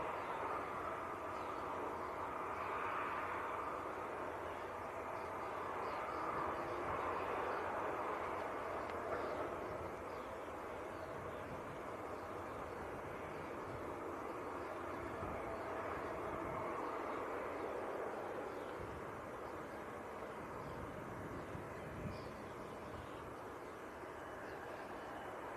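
An Aer Lingus aircraft begins pushback at Leeds Bradford Airport, a low distant engine rumble and hum holding steady and fairly faint throughout, with no voices.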